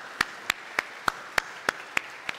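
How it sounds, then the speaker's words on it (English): Eight slow, evenly spaced claps ring out in a Catholic church during Sunday Mass, each sharp and distinct over a quiet background, fairly close and moderately loud. "Let's give a round of applause once again to Leia and her family."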